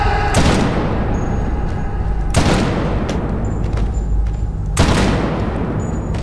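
Gunfire and explosive blasts from the Medal of Honor Warfighter video game: three heavy, loud booms at regular intervals, each decaying into a rumbling wash of shots and debris under a dense, continuous combat din, with no talking.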